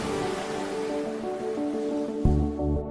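Sea waves wash steadily on an island shore, a continuous broad rushing surf with a heavier swell breaking near the end. No voices are heard.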